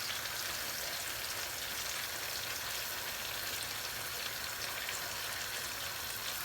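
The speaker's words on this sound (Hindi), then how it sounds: "अब हमने भून लेना है।" Yogurt and spice masala with gram flour frying in a pan for a moong dal mangochi curry, a continuous, even sizzle and crackle, close and fairly soft, with no voices.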